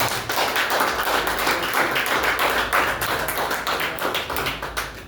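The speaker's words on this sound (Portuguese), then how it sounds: "Vamos receber o servo do Senhor com as palmas para nós." A church congregation claps to welcome a preacher, a steady, loud wash of many hands clapping throughout with no talking.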